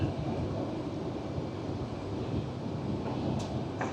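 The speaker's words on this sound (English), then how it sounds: "right now it's windy as all" Wind gusts steadily across the microphone outdoors among palm trees, a low continuous rumbling whoosh with no other clear sounds.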